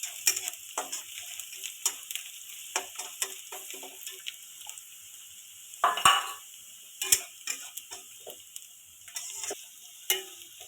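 Onions fry with turmeric in a pan, a quiet sizzle marked by scattered crackles and sharp ticks of a spoon stirring, with one louder clatter midway.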